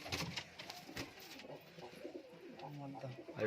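Pigeons coo softly in a loft, low murmuring calls repeating through the short stretch alongside faint background talk.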